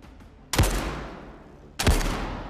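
Two loud, close single shots from a World War II weapon in the VR game Zero Caliber: Reloaded, each with a sharp crack and a long decaying echo, about a second and a half apart.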